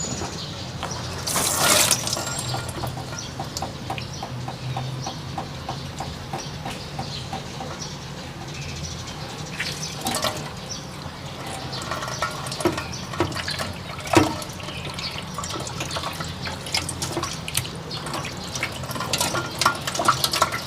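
Tap water runs steadily while food is rinsed in the stream for a stuffed grilled egg dish, with splashing, dripping and occasional clatters close by over a continuous gush.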